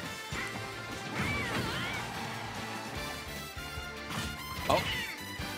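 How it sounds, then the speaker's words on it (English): A forward smash lands in a Super Smash Bros. Ultimate match between Yoshi and Byleth, a sharp crashing hit effect amid game music and sound effects, with commentators talking over it. "He doesn't miss those F smashes"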